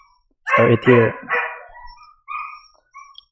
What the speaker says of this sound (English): Sorry for my dog, it's barking again.